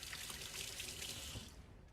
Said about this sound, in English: I just want to squeeze it dry. I don't want to have any of the water from that spinach